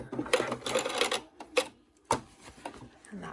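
A sewing machine stitches the seam of a fabric face mask in short, choppy bursts with brief pauses, running back and forth over the same spot. A faint voice can be heard in between.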